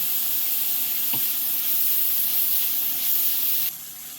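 Chopped vegetables sautéing in a hot pan for an omelette, a loud, continuous close hiss of sizzling with a single brief clink near the middle and no voices.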